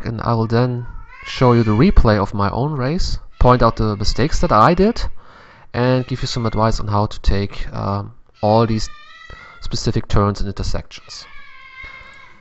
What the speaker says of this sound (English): So that's my cat in the background, if you can hear it.